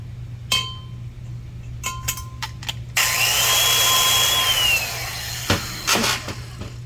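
Valve seat cutting on a Vortec Chevy cylinder head for a three-angle valve job, a steady grinding cut of about two and a half seconds, with metallic clinks and tool taps before and after over a constant low hum.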